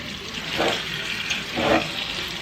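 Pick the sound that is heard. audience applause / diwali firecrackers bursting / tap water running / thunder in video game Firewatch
tap water running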